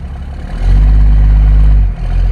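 A 6.7 Cummins diesel swapped into a second-generation Mega Cab truck rumbles loud and deep right up close. It swells into a heavy throttle pull for over a second, then dips briefly and settles back to a throaty idle.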